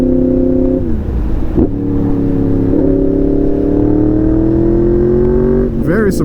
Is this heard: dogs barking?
no